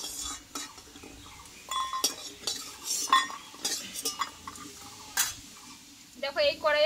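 Fried lentil dumplings are lifted out of a wok, with sharp metal utensil clinks and scrapes against the pan in irregular bursts and a brief voice near the end.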